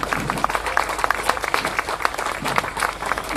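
A crowd at a Sunday fundraising event applauds its volunteers, a dense wash of steady clapping with a few louder individual claps standing out, close and sustained throughout.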